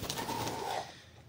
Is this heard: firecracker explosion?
no